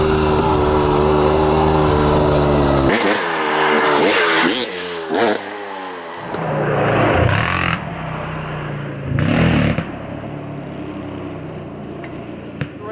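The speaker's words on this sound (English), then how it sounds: "I'm revving it way more and I'm giving it a lot more clutch to get that" A KTM 300 enduro two-stroke dirt bike on single track revs hard, first a steady high drone, then sharp repeated throttle blips rising and falling, followed by bursts of revving and lulls, loud and close.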